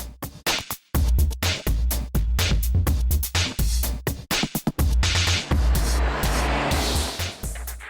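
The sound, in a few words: Mazda MX-5 open-top roadster driving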